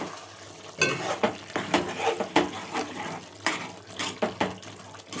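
Cooked brinjal and tomato being mashed in a pan over a low flame for a brinjal potato curry, with repeated soft squelching presses and scrapes in an irregular rhythm, close and moderately loud, with no talking.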